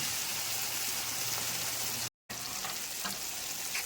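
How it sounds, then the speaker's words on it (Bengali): Ground spices, including Kashmiri chili powder, fry in mustard oil for fish paturi, a dense, even sizzle like light rain that runs steadily, cut by one brief silent gap. "এবার সবগুলোকে একসাথে মিশিয়ে ভেজে নিচ্ছি।"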